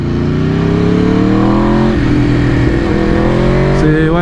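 An Aprilia RSV4 RF motorcycle engine revs loudly and close, its pitch climbing steadily through the gears, dipping briefly, then rising again in a continuous powerful roar.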